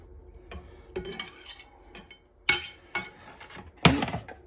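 Ground pork for pork and chive dumplings is chopped on a board with a knife, about eight to ten sharp, uneven thuds and clacks close by, with no talking.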